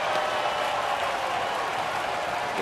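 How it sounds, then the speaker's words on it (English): A stadium crowd at a Kansas City Royals home baseball game stands and applauds, giving a dense, steady wash of clapping and cheering from far off that holds evenly throughout. "The crowd at the K on their feet."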